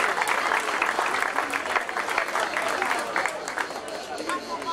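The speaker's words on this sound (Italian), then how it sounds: "un applauso per queste due figure" Sustained applause from an audience at a motorsport slalom event in Oppido Mamertina, Italy, dense steady clapping that fills the whole stretch without pause.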